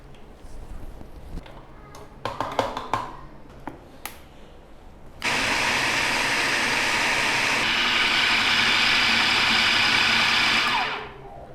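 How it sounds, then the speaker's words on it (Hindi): Electric grinder whirring steadily for about six seconds as it grinds a meat mixture with green chillies for shami kabab, preceded by clattering and handling noises, then winding down at the end. "तो चलिए अब इसको हम ग्राइंड करते हैं।"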